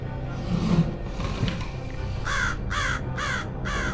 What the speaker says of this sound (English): I was about to take my leave when Raven's croak drew my attention.